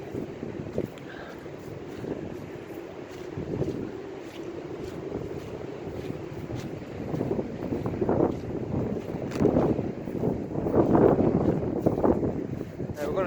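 Wind gusts across an open field near an abandoned farmhouse, a steady low rumble of buffeting on the microphone that grows stronger and more blustery toward the end.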